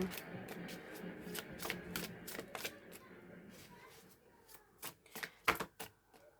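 Oracle cards being shuffled by hand, a rapid series of crisp riffling slaps and flicks, dense at first and then sparser bursts toward the end, fairly close and moderately quiet.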